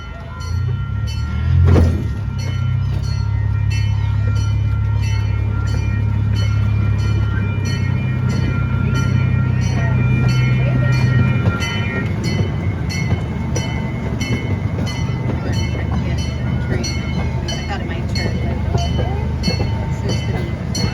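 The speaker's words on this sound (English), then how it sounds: "There we go, that's what I wanted. There's the train." A zoo miniature train rumbles by at close range with a steady clattering roar and a regular rhythmic clicking of wheels, a low hum fading partway through.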